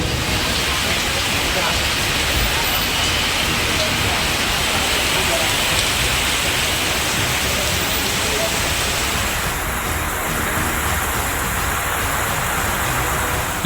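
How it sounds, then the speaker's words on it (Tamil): Dense, loud rain pouring steadily with a broad rushing roar of wind-driven downpour, continuous throughout, in Yercaud, Salem district, Tamil Nadu. "சேலம் மாவட்டம் ஏற்காட்டில் பலத்த காற்றுடன் பரவலாக மழை பெய்தது"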